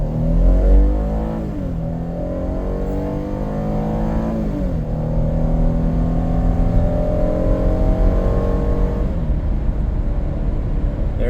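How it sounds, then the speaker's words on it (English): A 2015 all-wheel-drive Ford Police Interceptor Utility with a 3.7L engine brakes hard and swings through a turnaround on a gravel two-lane road, its engine loud and close, pitch rising and falling steadily with no talking. "So I'll slam on the brakes and just do a quick turnaround real quick."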